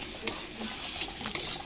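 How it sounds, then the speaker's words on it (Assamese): Taro frying with spices in a pan, a soft, steady sizzle with a couple of sharp clinks of a utensil against the pan, close and fairly quiet. "কচুটো অলপ ভাজি ল'ব লাগিব।"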